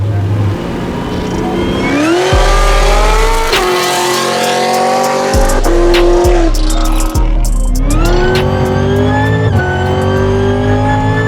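A 1000 hp Cadillac CTS-V sedan with meth injection revs hard and loud, climbing through several gears in repeated surges, close and continuous throughout.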